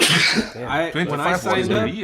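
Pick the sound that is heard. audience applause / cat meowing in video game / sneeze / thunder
sneeze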